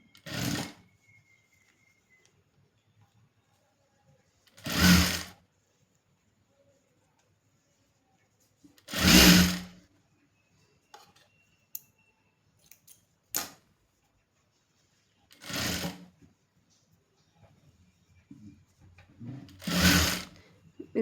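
A sewing machine stitching a folded trouser hem in short separate bursts, about five quick runs spaced several seconds apart, with near silence and small handling noises between them.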